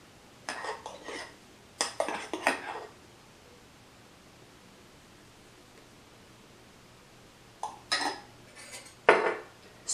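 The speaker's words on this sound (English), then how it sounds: "With this cup, spoon out the milk foam and place on top." A spoon scrapes and clinks as milk foam is scooped from a frother into a coffee cup, in a few short bursts near the start and again near the end, with quiet pauses between.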